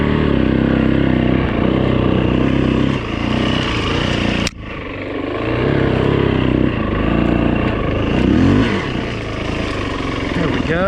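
A 2008 Yamaha WR450F dirt bike on a trail, its engine loud and close, surging and easing with throttle changes, with a sharp clack near the middle and a rider speaking over the engine.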